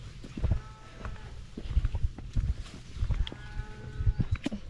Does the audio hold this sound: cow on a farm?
yes